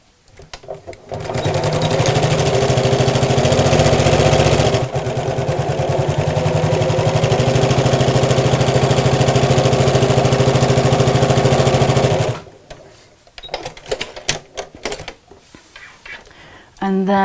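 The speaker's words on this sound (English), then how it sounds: "And then I'm going to sew these right sides together just across the top." Sewing machine stitching a 1/4 inch seam across the top of a fabric craft bag, a loud steady whir of rapid needle strokes that runs without a break for about ten seconds, briefly eases, then stops and leaves faint handling noise.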